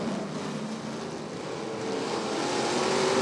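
Vintage race cars of the Northern Outlaw Vintage Series racing on the Rockford Speedway figure-eight track: a broad, continuous engine roar from several cars that swells gradually louder as they accelerate from the green flag.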